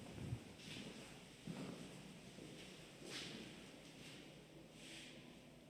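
Wind gusting outdoors at a prison site, a faint steady rush rising in soft swells and buffeting the microphone.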